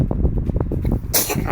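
A single sharp, close sneeze bursts out near the end, following a stretch of casual conversation in Filipino.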